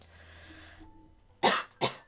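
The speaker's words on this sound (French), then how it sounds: "aussi je tousse un peu" A woman coughs twice in quick succession, sharp and close, after a quiet stretch with a low background hum.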